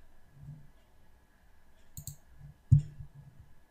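A computer mouse click on a web page, one sharp close click standing out from faint soft handling noises in an otherwise quiet room, no talking.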